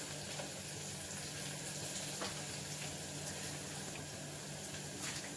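Onions, cashews and green chillies frying in hot oil make a steady, soft sizzle that fills the whole stretch at an even level, with a few faint clicks from the pan.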